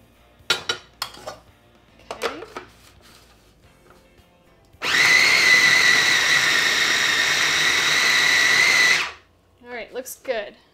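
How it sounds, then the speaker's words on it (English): A food processor grinds shrimp into a pot sticker filling, a loud steady motor whir lasting about four seconds, with kitchen clatter and handling noises before and after. "put our shrimp in the food processor. We wanna grind that up."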